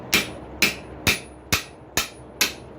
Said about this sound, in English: What I'm doing is using the chisel to partly open that up.